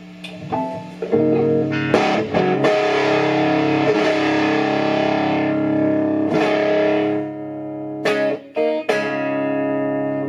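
Ovation Breadwinner electric guitar with out-of-phase pickups and notch setting, tone at 4: a thin, hollow, nasal tone, strummed chords ringing out with brief pauses and fresh attacks, loud and close.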